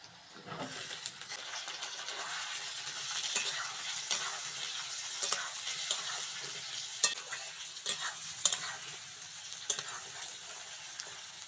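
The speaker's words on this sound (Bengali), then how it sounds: "পেঁয়াজের সঙ্গে আলুটা ভালো করে ভেজে নিয়েছি" Potatoes fry with onion and green chilli in a pan, a soft steady sizzle broken by repeated spatula scrapes and light clinks as they are stirred, close and without speech.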